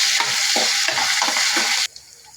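Chopped onions and curry leaves fry in a pan with a loud, bright sizzle while a spoon stirs them in several rhythmic scraping strokes, then the sizzle drops away abruptly near the end; no one speaks.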